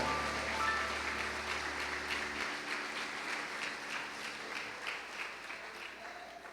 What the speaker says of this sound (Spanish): Podemos darle fuerte una ofrenda de palmas a nuestro Dios